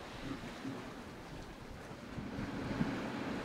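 Westerly wind blowing across a boat inlet on a cool fall day at low tide, a steady low rushing roar with wind buffeting the microphone and faint surf beneath, no voices.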